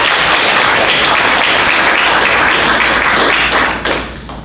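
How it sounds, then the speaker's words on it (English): Applause at a city council meeting in Independence, dense steady clapping from the room that carries on strongly, then thins and fades near the end. "Applause."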